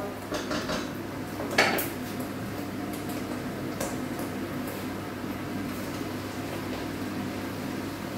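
Veal dropped into a pan of sautéed onion and mushrooms for stroganoff, a sharp metallic clatter of pan and utensil near the start, then faint scrapes over a steady background hum.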